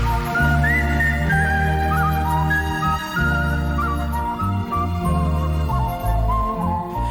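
A man whistles a wandering melody over a loud musical accompaniment with a steady rhythm, the tune sliding between notes.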